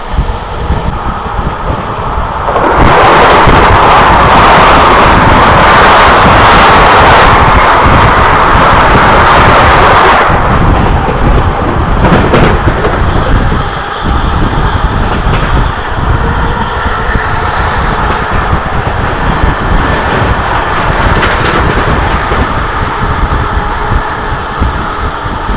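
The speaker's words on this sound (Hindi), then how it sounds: "अब हमारे क्रॉसिंग होने वाली है अयोध्या वंदे भारत एक्सप्रेस से।" The Ayodhya Vande Bharat Express crosses alongside on a moving train, a loud close rush of wind and rolling wheels that swells into a dense roar for several seconds, then settles into a steady rumble with scattered rattles.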